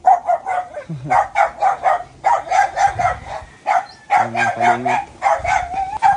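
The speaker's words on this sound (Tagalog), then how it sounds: "May aso." A dog barks repeatedly in quick bursts close by at a rural house, while a person speaks briefly.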